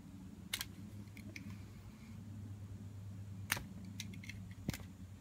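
A knife splitting a tennis ball in half, heard as faint scattered snips and scraping cuts over a quiet steady background hum.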